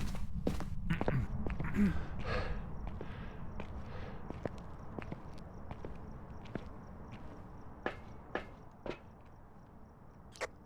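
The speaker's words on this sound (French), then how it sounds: "ces bruits de pas ils sont hyper lourds." Heavy, evenly spaced footsteps of a Deogen ghost in a video game thud over a dull, continuous background rumble, with sharp clicking impacts toward the end.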